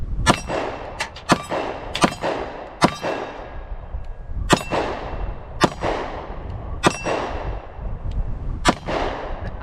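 Taurus PT111 Millennium G2 handgun fires about ten loud, sharp shots at an outdoor range, each followed by a ringing metallic clang from a steel target, spaced irregularly with no talking.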